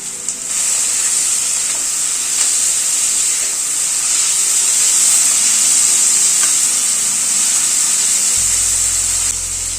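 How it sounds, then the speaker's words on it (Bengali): Long strips of a small capsicum dropped into spices frying with curry leaves: a loud, constant hissing sizzle fills the whole stretch, with faint stirring scrapes beneath and no talk. "এখানে একটা ছোট ক্যাপসিকাম এরকম লম্বা লম্বা করে কেটে নিয়েছি সেটা দিয়ে দিলাম"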